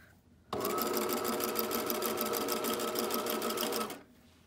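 A sewing machine stitches elastic onto a pair of undies, starting abruptly and running at a steady, even whir for about three and a half seconds before stopping, with no talk.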